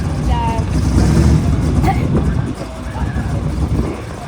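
A hot rod drag car's engine rumbles steadily and loudly nearby at Drag Week, a constant low drone with people talking over it throughout.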